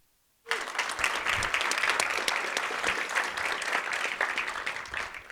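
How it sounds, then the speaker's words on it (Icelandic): Audience at a DSM 2026 conference in Iceland breaks into applause to welcome speakers to the stage, starting abruptly after a short silence and holding as a loud, dense, steady clapping crowd. "við skulum bara bjóða þá upp á svið og gefa þeim gott klapp"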